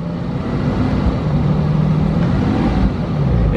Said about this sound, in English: It just idles so smoothly.